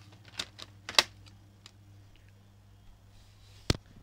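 A Dyson DC14 vacuum cleaner hose clicks back into place indoors, giving a few sharp, close plastic clicks around the first second and another single snap near the end, all against a quiet background.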